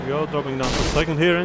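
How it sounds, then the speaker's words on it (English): A sharp burst of broadband noise, a blown engine in a racing game at Sebring, cuts in over steady engine drone while someone talks. "That was the sound of a blown engine."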